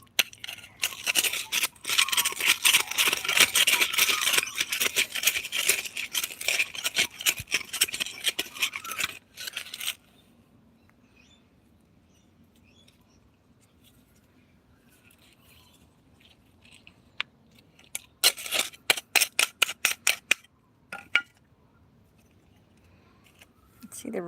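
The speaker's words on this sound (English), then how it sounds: "See the runners, just cut them off." Scissors snip strawberry plant runners in a garden patch, a dense run of close, crisp clicks and rustles for about ten seconds, then quiet, then a few more sharp cuts near the end.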